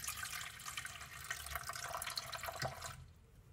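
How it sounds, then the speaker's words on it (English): Water pours steadily into a pressure cooker holding jars of rice grain for mushroom spawn, a continuous splashing rush that stops abruptly near the end and leaves near silence. "we put the jars inside the pressure cooker and add approximately 1 to 2 inches of water."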